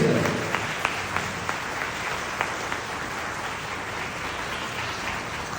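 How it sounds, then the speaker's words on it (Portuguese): A congregation at a Mass claps steadily for a priest, a dense, even patter of many hands from start to finish with a few sharper claps standing out. "Vamos dar uma salva de palmas para o Padre Vanderlan."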